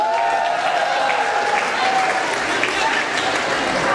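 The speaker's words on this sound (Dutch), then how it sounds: "Ook een applaus voor hen." An audience at a school end-of-year celebration applauds the donors who paid for a painting's restoration, with steady, dense clapping from a large crowd that holds evenly for the full span.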